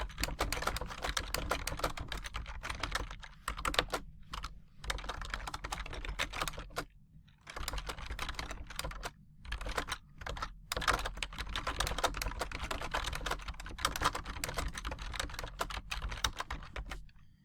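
Rapid, close clatter of typing on a computer keyboard as a description is entered, with steady bursts of keystrokes broken by brief pauses, quiet and continuous with no talking.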